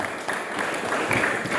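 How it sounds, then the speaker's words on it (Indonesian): Congregation applause during a church service, a short burst of many hands clapping together at a fairly loud, steady level, without speech over it. "Beri tepuk tangan yang meriah buat Tuhan Yesus."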